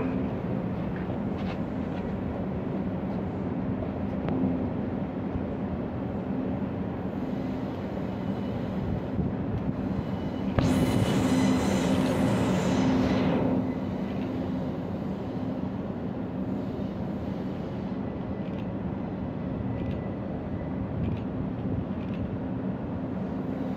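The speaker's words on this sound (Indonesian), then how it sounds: "Hati-hati jalur 7 agar segera masuk ke dalam tujuan stasiun Tanjung Priok." A commuter train pulls into Tanjung Priok station on track 7, a steady loud rumble of wheels and carriages running throughout, with a brief sharper hiss or screech burst partway through.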